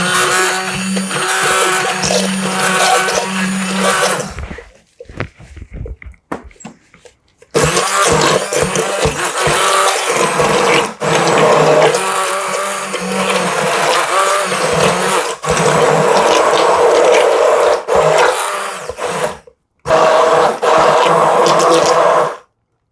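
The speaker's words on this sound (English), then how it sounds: "I have a little immersion blender, so I'm just going to use this. And then just blend to the consistency that you like." A small immersion blender whirs loudly through a pot of vegan turnip lentil curry in several long bursts, stopping and restarting with short pauses between runs.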